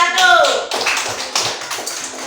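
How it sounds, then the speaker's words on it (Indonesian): Classmates clap for a group of students in a classroom, a short ragged round of applause that starts over a brief spoken voice and continues alone. "Kasih tepuk tangan dulu apresiasinya sama orang kelompok 1"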